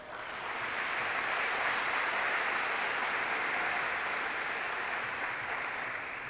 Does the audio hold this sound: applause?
yes